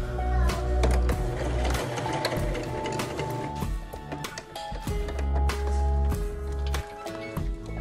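A sewing machine stitches elastic band straps in quick rhythmic bursts, close and clear, with short pauses between runs and mechanical clicking.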